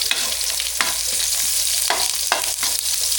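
Food sautés in a hot pan with a loud, continuous sizzle and hiss. A utensil stirs and scrapes against the pan in several distinct strokes. No talking.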